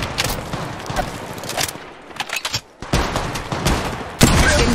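Gunfire in Apex Legends Mobile erupts as dense, overlapping volleys of shots with brief gaps, loud and close, ending in a sharper heavy burst.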